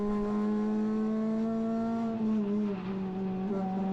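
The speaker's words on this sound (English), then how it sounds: "full gas now, into third, wide open" A Renault Clio RS 200 engine pulls hard at full throttle on the Three Sisters circuit during a track day, a loud steady in-cabin drone rising in pitch with one brief dip for a gear change.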